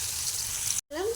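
Thinly sliced onions frying in a pan for palak paneer give a steady, close sizzle that breaks off for a moment, then returns with a brief rising squeak.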